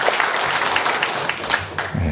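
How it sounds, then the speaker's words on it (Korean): Korean church congregation at a Sunday worship service clapping in praise, a short stretch of dense applause with a voice speaking over it. "하나님께 영광의 박수를 올려드리겠습니다"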